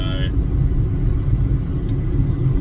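A car cruises along a 40 km country road past paddocks, heard from inside as a loud, constant low rumble of engine and tyres that never lets up.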